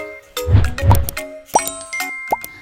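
A bright bell-like notification chime rings out twice, each a sharp ding with a short ringing tail, after a pair of soft low plops, loud and close with no voices.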